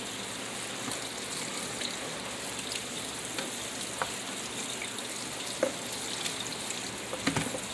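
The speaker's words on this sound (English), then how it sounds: "I'm just trying to rinse it." Red onion rinsed under running tap water in a kitchen sink, a steady soft hiss of flowing water with a few faint splashes and small clinks, moderately quiet and alone without talk.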